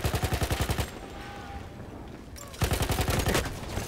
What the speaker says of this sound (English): Thanks to the covering fire by our German boys